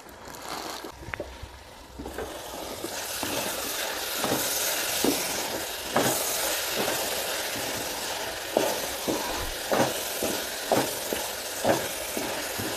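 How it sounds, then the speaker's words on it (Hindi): Beetroot halwa stir-fried in ghee over medium to high flame: a constant close sizzle broken by regular scraping strokes of a spoon against the pan. "थोड़ा सा घी हम और शामिल करेंगे और अब इसको उस वक्त तक भूनेंगे जब तक इसका कलर चॉकलेट के कलर के करीब नहीं आ जाता"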